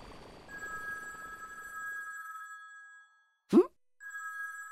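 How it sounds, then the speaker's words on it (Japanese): A telephone rings in the video game Dragon Ball Z Kakarot, with steady electronic ring tones breaking off briefly, a short knock-like sound, then the ringing resuming. "電話だ。"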